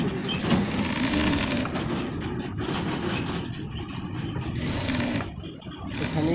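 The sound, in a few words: sewing machine stitching side seam of child's kabli panjabi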